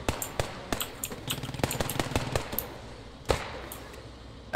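MG42 machine gun fire in the video game Post Scriptum, heard as scattered bursts and single sharp reports at mid distance, with one louder crack near the end, and no voices.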